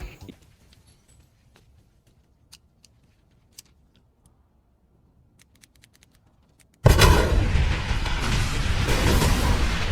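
A film-scene explosion featuring the Joker: faint scattered ticks in near silence, then a sudden loud, roaring broadband blast that keeps rumbling at full strength to the end.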